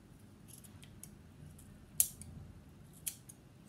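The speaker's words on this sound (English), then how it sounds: "But I'm gonna cut his hair" Two crisp scissor snips trimming the fluffy yarn of a mini pompom pet made from a craft kit, each a short sharp cut against a quiet room background, spaced about a second apart.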